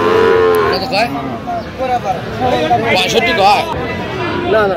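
Sahiwal cattle moo repeatedly amid a busy cattle market crowd, with people chattering and bargaining loudly close by throughout.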